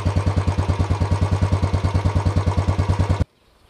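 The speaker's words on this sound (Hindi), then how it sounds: "आपका एग्जॉस्ट की आवाज सुना दी" A Royal Enfield Classic 350 BS-6 motorcycle idles close by, its exhaust thumping in a steady, even single-cylinder beat for about three seconds before cutting off abruptly into silence.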